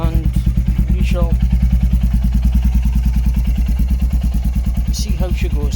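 A Royal Enfield Meteor 350 single-cylinder motorcycle with its exhaust baffle removed idles close by. It gives a loud, even thumping beat throughout, with speech heard briefly over it.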